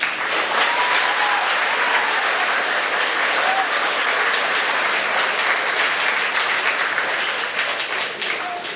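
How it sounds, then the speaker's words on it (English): At a 6th grade graduation, students give their parents a big, loud round of applause, a thick continuous roar of many hands clapping that fills the room for several seconds. "Students, would you thank your parents by giving them a big applause?"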